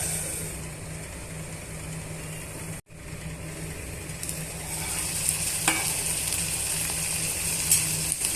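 Chopped tomato pieces stirred into a gravy of cluster beans in a pan, a steady close sizzle of frying with stirring scrapes running throughout, briefly cutting out once before resuming slightly louder.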